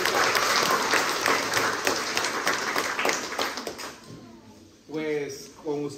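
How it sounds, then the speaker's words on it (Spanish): Congregation applause for community councils during a Catholic Mass, energetic clapping that fades out after about four seconds, followed by a voice speaking. "Démosle un fuerte aplauso a los consejos comunitarios."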